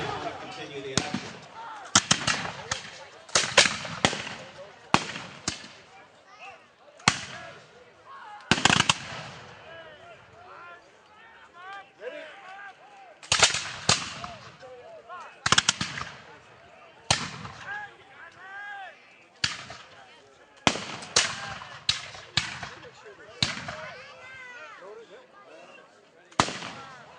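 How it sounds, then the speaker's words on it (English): Smoothbore muskets fire at a military battle re-enactment, sharp cracking shots ringing out singly and in irregular volleys across a wide open field, some near and loud, others farther off, with gaps of quieter crowd noise between. "weapons used are smoothbore weapons."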